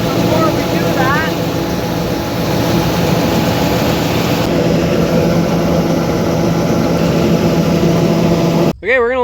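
A combine harvester idles in a harvest field with a steady, loud, droning diesel hum that holds constant throughout, while brief voices are heard at the start and the very end.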